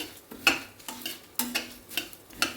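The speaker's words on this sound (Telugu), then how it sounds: "మంచిగా ఫ్రై అవుతుంది" Four dried red chillies fry in a pan over high gas, with a soft sizzle broken by a regular series of sharp spatula taps and scrapes against the pan, about six strokes, close and clear.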